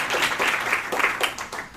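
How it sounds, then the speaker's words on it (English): A seated audience claps together at a business training seminar, a dense steady patter of many hands, fairly close and continuous with small swells, with no talk over it. "Please, everybody clap your hands and wake up."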